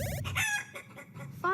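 Chickens in a garden chicken coop and run cluck and squawk up close, a few overlapping birds making short, choppy calls with no talk.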